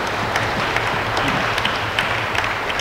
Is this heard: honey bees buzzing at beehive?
no